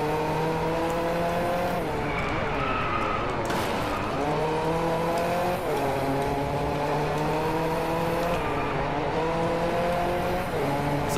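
Car engine racing in Forza Horizon 2, loud and continuous, with the revs repeatedly climbing and dropping as gears shift through a hard drive, with hints of tire squeal throughout.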